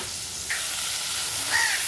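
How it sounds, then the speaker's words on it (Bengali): Onions frying in a wok, a steady close sizzle and hiss that swells slightly partway through, with no voices. "পেঁয়াজটা ভেজে নিচ্ছি।"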